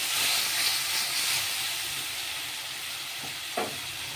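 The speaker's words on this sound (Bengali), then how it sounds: "কাঁচা লঙ্কা আর টমেটো। মশলাটা একটু কষাতে হবে।" A spice paste of onion, garlic, ginger, green chili and tomato sautés in a pan, making a soft, steady hiss and sizzle with a couple of quiet stirring knocks near the end.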